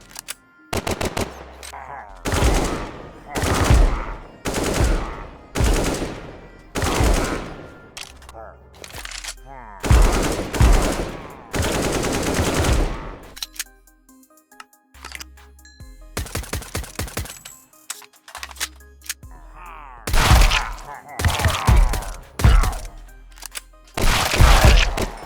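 Counter-Strike style guns from the TaCZ gun mod in Minecraft fire in the game. Loud bursts of rapid automatic fire and single sharp shots alternate with short pauses, and the pattern repeats through the whole stretch.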